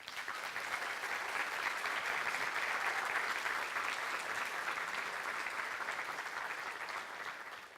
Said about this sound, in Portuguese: faça uma salva de aplausos aos professores do Brasil